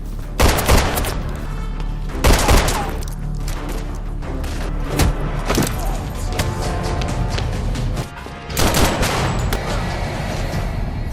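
Gunfire in an assault scene from a Steven Seagal action film, loud bursts of shots and booming impacts recurring every few seconds over a dense, continuous action-soundtrack bed.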